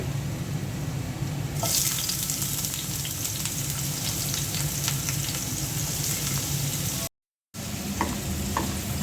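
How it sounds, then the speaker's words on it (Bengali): Chopped onion hits a hot frying pan and sizzles loudly, a sharp hiss that swells as it lands and then a steady close crackle, briefly cut out near the end, with no voices. "ফ্রাই প্যানে পেঁয়াজ কুচিটা দিয়ে দিচ্ছি"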